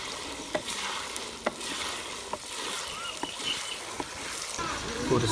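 Chicken sizzling and frying in a pan with onions being added, steady crackle with periodic clinks and scrapes of stirring throughout.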